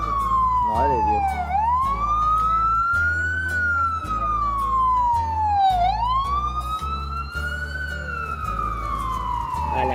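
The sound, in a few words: ambulance siren in New York street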